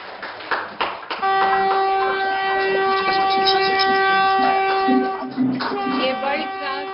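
A Vande Bharat Express train at its flag-off ceremony gives a long, steady, tonal horn blast that holds for several seconds amid crowd noise and murmuring voices.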